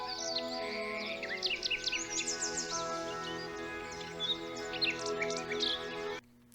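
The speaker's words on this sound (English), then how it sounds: "The birds." Birds chirp and tweet continuously, a lively chorus of bright overlapping calls and trills at moderate volume that runs throughout and cuts off abruptly just before the end, with no talking.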